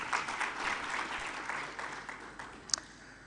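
Faint applause from a conference audience welcoming a session moderator, soft scattered clapping that thins out, with one sharper clap or knock near the end.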